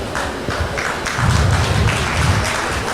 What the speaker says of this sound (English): So let us applaud our ancestors and ourselves.